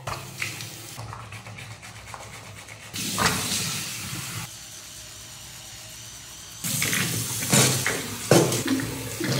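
Tap water runs over a pan in a home kitchen, a hissing, splashing stream that starts and stops in several bursts, loud and close, with quieter gaps between.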